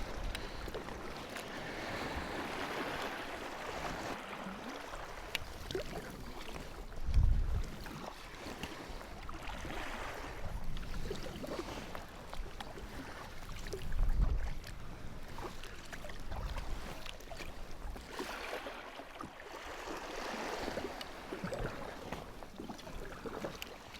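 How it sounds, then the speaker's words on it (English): A sea kayak paddles across open water toward Treshnish Headland, with steady wind noise and washing waves throughout and a couple of louder splashing surges from the paddle strokes or swell. "So what I'll do is just paddle across to the Treshnish Headland, and then I'll paddle out to the islands from there."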